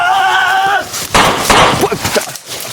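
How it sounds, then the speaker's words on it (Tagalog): Two sharp, loud bangs ring out close by, one after another, followed by scattered noise and brief activity. "Dalawang putok."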